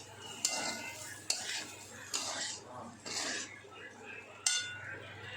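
Potato sabzi is stirred with lemon juice in a pan, with repeated metallic scrapes and clinks of a spoon against the pan every second or so over a faint sizzle, close but fairly quiet.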